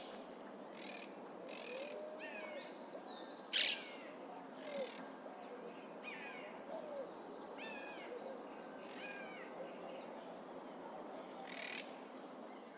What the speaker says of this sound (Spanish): Es el hornero, el ave nacional de Argentina.